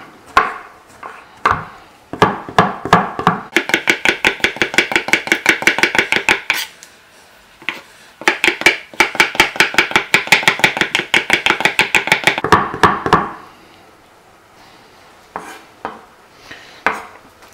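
Two garlic cloves chopped with a knife on a board for tomato sauce. Quick, evenly spaced blade knocks come in long rhythmic runs, broken by short pauses and a few slower scattered taps near the end. The chopping is close and crisp.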